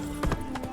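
Horse hooves clip-clopping in The Witcher 3, two or three quick, close hoof strikes in under a second over a low background game hum.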